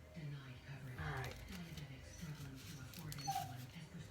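A puppy whimpers and yips in short high whines close by while a person talks over it during tie-dyeing.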